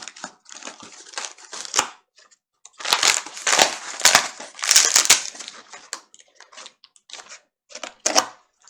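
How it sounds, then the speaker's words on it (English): Dried loofah skin peeled off in large pieces by hand, giving close, dry crackling and crunching bursts in irregular clusters separated by short quiet gaps. "I just literally start peeling this thing"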